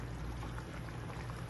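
Water is poured from a glass into flour while cooking Palestinian fesikh, a faint steady trickle under low background noise lasting a moment.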